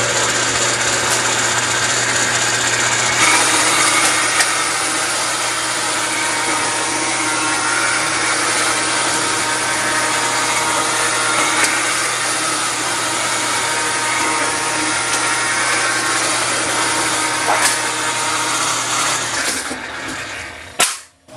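A lock former machine runs steadily on sheet metal for about twenty seconds, giving off a loud continuous mechanical roar with a low hum. Near the end it spins down and stops.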